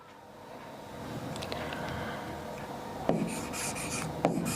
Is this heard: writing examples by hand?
yes